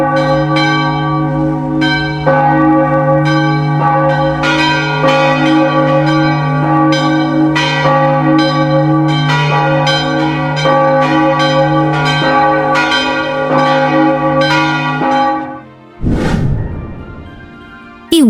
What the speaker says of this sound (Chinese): 这时，一阵响亮的钟声打断了他的喜悦，接着全城的教堂钟声欢快地敲响了